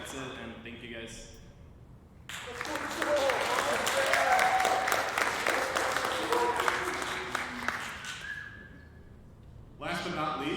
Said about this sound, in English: So if we can, just make sure to give a round of applause.